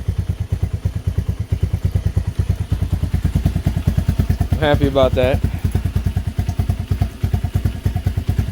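A Lifan KP Mini 223 165FMM motorcycle engine idles low with a steady, rapid thumping beat, close and continuous, while someone talks briefly over it.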